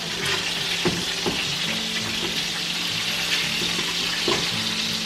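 A breaded chicken cutlet fries in a pan for chicken parm, giving a steady, close sizzle with a few scraping and clinking kitchen sounds and no talking.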